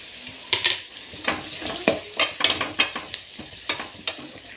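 Onions and curry leaves frying in a pan for a chicken gravy, a steady sizzle broken by repeated sharp scraping stirs in an irregular rhythm, close and clear with no talk.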